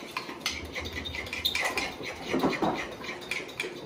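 A moka pot being handled and set down to cool after brewing Cuban coffee, giving a string of close metallic clinks and scrapes against a kitchen surface, fairly steady with a busier cluster midway.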